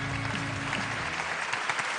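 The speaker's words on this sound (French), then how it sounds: "je vous demande d'applaudir très fort Maryse Degboué" Applause from the audience at a national awards ceremony for young talents, steady and moderately loud throughout, with faint tones and murmurs underneath.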